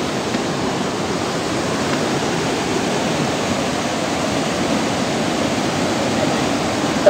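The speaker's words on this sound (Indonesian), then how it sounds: "dengar suara alirannya deras banget" Strong, rushing flow of water pours steadily and loudly at close range, a dense unbroken roar like a heavy stream or small waterfall, with no voices.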